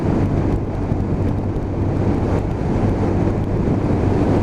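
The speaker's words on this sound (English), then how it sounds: "Whoa, headwind." Headwind buffets the rider of a Lexmoto Assault 125cc motorcycle on the road, a loud, steady roar of rushing air with low engine drone underneath, continuous for the whole stretch.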